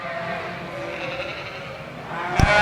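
Yearling ewes, Border Cheviot and Katahdin sheep, bleat in a show ring, a wavering call carrying over the hall's background noise, with a brief sharp knock near the end.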